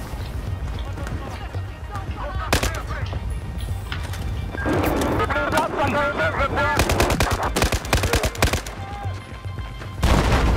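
Automatic and single gunshots fire in rapid bursts during a Battlefield 4 match set in Singapore, loud and close, with sharp cracks clustering near the end while someone talks over the shooting.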